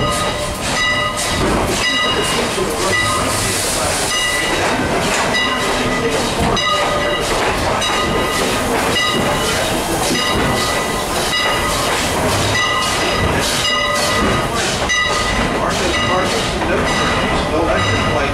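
Strasburg Railroad steam passenger train No. 89 rolls along on its run out to Paradise, Pennsylvania: a loud, steady, close rumble of wheels and cars with hiss layered through it, continuous for the whole stretch.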